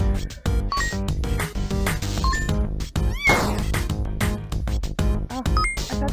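Game cats in Wholesome Cats give repeated meows and a drawn-out caterwaul over steady background music and clattering effects, near and prominent.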